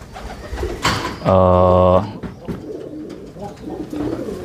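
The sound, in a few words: pigeon cooing while held in hand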